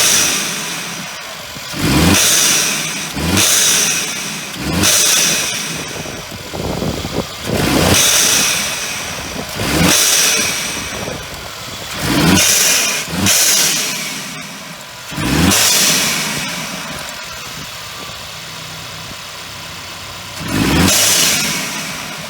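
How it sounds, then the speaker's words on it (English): Mercedes C300 with an MST Performance cold air intake fitted, engine revved hard in repeated bursts roughly every two to three seconds, loud and close, each rev rising then falling back to idle. "I'm gonna start the engine."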